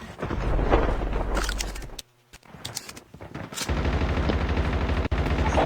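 Gunfire in a mobile battle royale shooter at a river area, with loud dense bursts of shots filling most of the moment, a short lull in the middle, then sustained firing again.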